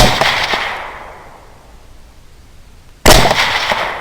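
Two loud rifle shots at hogs roughly 155 yards away, each a sharp close crack followed by a decaying outdoor echo, spaced about three seconds apart.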